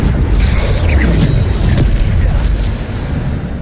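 A Bombarda spell explosion in the video game Hogwarts Legacy, a loud, sustained booming blast with a heavy low rumble that holds steady and then tapers slightly.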